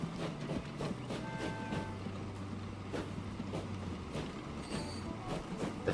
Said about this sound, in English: this other train can come in and stop on a dime